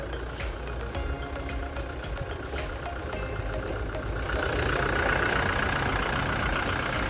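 A used 2018 Toyota Fortuner with a manual gearbox and a diesel engine idles, a steady, dense rumble that swells a little louder midway through, with no talk over it.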